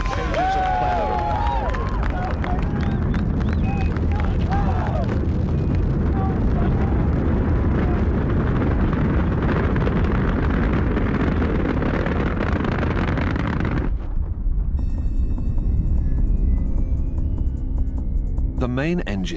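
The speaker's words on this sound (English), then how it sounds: "The main engines create acoustic shock waves so powerful their vibration would be enough to shake the shuttle apart" Space Shuttle Endeavour's main engines thunder at liftoff in a continuous, heavy, crackling roar heard from a distance, with a narrator speaking over it before the sound cuts to quieter accompaniment.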